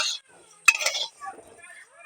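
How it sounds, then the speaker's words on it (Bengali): A utensil clinks and scrapes against a pan in brief stirring strokes as vermicelli fries, with a voice speaking softly between them. "একটু ভালো করে নাড়তেই হবে ভালোভাবে নেড়ে নিচ্ছি"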